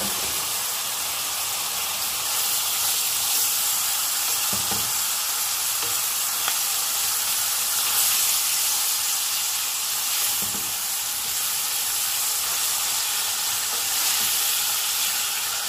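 A pan sizzles and fries steadily while something browns for an asparagus savory pie, a continuous close hiss with occasional soft stirring clinks.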